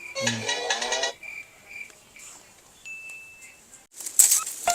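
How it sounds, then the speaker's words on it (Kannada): A phone ringtone chirps in short electronic tones, then holds one steady beep, with a harmonic burst at the start and rustling noise at the end. "ತಡಿ ಫೋನ್ ಬಂತು ಹೇಳು"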